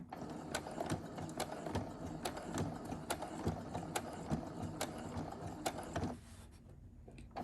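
A sewing machine back-stitching a fabric mask seam, its needle running in a fast even mechanical rattle with regular clicks, fairly quiet and close, stopping near the end.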